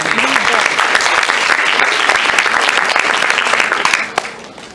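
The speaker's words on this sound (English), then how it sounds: "Let's give her a round of applause." A hall audience at a university World Speech Day event claps loudly and continuously, a dense wash of hands that begins to fade in the final second, with faint voices mixed in.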